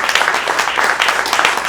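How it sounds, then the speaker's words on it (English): An audience at a documentary film screening Q&A gives the director a warm round of applause, a dense, steady wash of many hands clapping at once, close and fairly loud. "Everybody, let's applaud Chris one last time."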